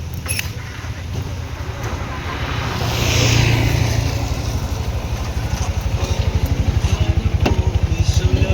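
A habal-habal motorcycle taxi engine putters nearby, swelling as it passes, then settles into a steady, rapid throbbing idle.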